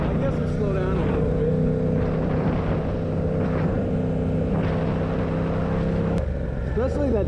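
A loud stock Venom X18R 200cc dirt bike engine drones steadily, its pitch dropping and rising as gears shift down, with a voice talking over it.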